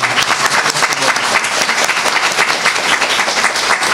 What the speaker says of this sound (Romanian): Haideți să-l aplaudăm pe Tomas.